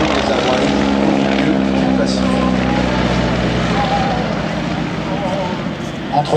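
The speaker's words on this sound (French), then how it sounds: "les 3 avions que vous voyez voler devant nous sont donc tous les 3 des avions typiques, des avions écoles américains de cette époque" Vintage American trainer aircraft, including a yellow biplane, fly past with a loud, continuous propeller engine drone that stays steady throughout, with a voice talking underneath.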